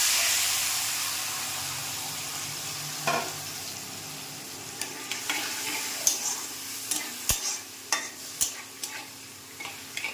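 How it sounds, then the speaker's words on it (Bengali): Dal with its water tipped into a hot pan, a loud hissing sizzle that slowly fades, followed by sharp scraping and clinking stirring sounds near the end. "এবার আমি ডালটা দিয়ে দেবো জল সমেত"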